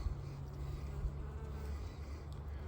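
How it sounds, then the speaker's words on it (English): Honey bees buzz steadily inside an opened hive during a spring mite check, a dense low hum close by with no talking. "That's a pretty bee."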